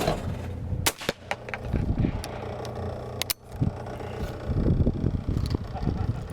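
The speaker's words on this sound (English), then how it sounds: "let's shoot another one with the Browning Superposed" A Browning Superposed over-under shotgun fires two sharp, loud blasts during an outdoor skeet shooting session, with a voice and some handling noise around the shots.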